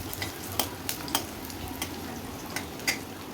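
Frying in a pan while preparing chicken with curry leaves, a continuous close sizzle punctuated by several light clicks and taps of a utensil stirring.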